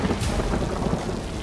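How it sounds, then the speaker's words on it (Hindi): Heavy rain pours over a flooded city with wrecked houses, a dense, steady roar of falling water that stays loud and unbroken from start to finish. "भारी बारिश से शहर तरबतर है"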